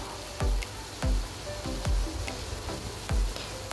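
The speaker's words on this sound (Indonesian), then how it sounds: "pertama-tama aku mau goreng jengkol yang udah aku rebus setengah matang" Parboiled jengkol beans fry in hot oil with a steady close sizzle, broken about five times by sharp spattering pops at a fairly even pace, with no talking.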